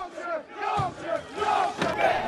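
Protesters in Rotherham storm a Holiday Inn hotel housing asylum seekers, and a dense crowd shouts and chants together in a loud, continuous roar with rising and falling cries.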